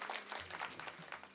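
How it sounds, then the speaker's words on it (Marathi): Applause from a seated crowd at a Marathi kirtan for the singer and musicians, a soft, distant wash of clapping held steady for over a second. "एकदा गायक वादक साठी जोरदार टाळ्या झालं पाहिजे महाराज"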